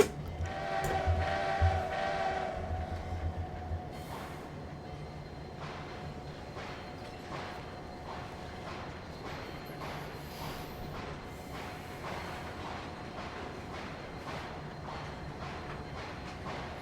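Freight train cars roll along the track in Trainz 2022 while shunting in Moscow, a horn sounding briefly at first, then steady rumbling with regular clicking of wheels over rail joints.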